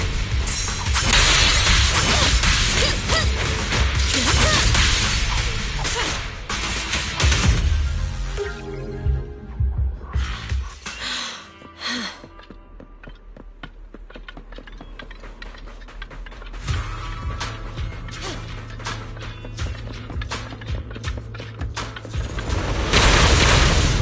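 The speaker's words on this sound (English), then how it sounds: "That meteor seems to have blasted open a passage." A meteor blasting open a passage in the video game Zenless Zone Zero, heard as heavy booming impacts and crashing debris followed by ticking, mechanical clatter and a low rumble, loud and close with no talking.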